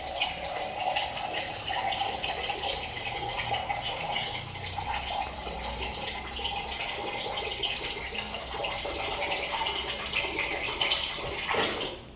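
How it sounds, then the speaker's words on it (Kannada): Water pours steadily into a cooking pot of chicken sambar after the oil has separated, a continuous close splashing rush lasting several seconds with no talk. "ಈ ರೀತಿ ಎಣ್ಣೆ ಬಿಟ್ಕೊಂಡ್ಮೇಲೆ ನೀರು ಹಾಕ್ಕೊಳ್ಬೇಕು"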